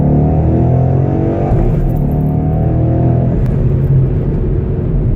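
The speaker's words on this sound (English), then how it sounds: "That was power shifting right there." A car engine drones loud and steady from inside the vehicle, with a shift in pitch about a third of the way through as it is power shifted, and the heavy rumble continues without pause or voices.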